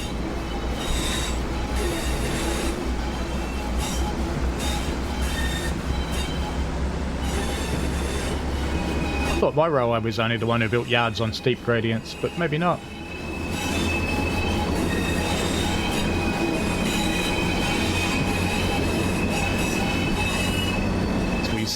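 A Pacer train in a train simulator game screeches with squealing wheels as it pulls out over steep-gradient yard track, a loud rising metallic whine over heavy rail rumble, with someone talking over it.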